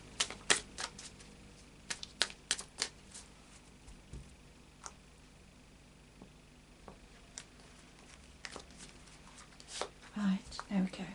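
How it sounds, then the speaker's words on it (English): Oracle of Visions tarot cards being shuffled by hand: a scattered run of crisp, close card taps and flicks, some in quick clusters and others spaced apart, over a quiet room background with no talk. "a final shuffle of the Oracle of Visions"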